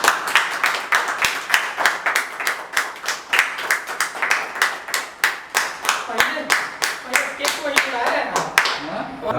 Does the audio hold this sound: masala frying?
no